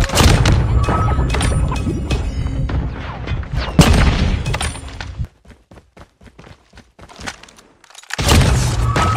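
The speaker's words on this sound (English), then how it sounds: "Enemy has dropped a bomb." Loud booming explosions and heavy thuds from a bomb dropped in a sniper-style shooter video game, with gunfire-like bursts, a sudden drop to quiet, scattered soft impacts, then another loud blast.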